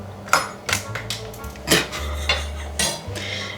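A spice shaker's metal top clattering across a kitchen counter, a series of sharp, close clinks and taps spread unevenly over a few seconds, with no talk.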